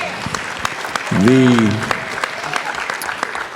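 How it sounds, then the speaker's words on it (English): Audience applause at a union leadership gathering, a steady spatter of clapping throughout while a speaker's voice briefly rises over it in the middle. "Give him a round of applause."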